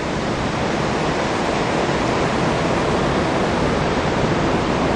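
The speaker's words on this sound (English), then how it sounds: "Currently, it's just sort of a babbling brook compared to the rest of it." Rushing water of a brook at Niagara Falls, a steady, loud broadband roar that continues unbroken throughout with no pauses.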